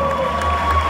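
A graduation audience at a school ceremony applauds a graduate, a steady wash of crowd clapping and cheering with a constant hum underneath, fairly loud for the whole second.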